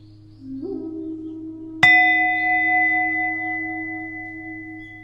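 A meditation bell is struck once, giving a clear, close metallic ding that rings on and slowly fades over several seconds above a low, steady background hum.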